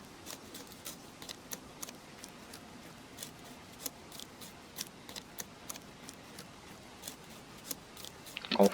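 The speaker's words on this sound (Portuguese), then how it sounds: "Você descasca com o facão." In the DayZ video game, a machete peels bark from a tree, giving a steady series of quick, light scraping ticks in an irregular rhythm, faint and with no voice, ending in a slightly louder cluster.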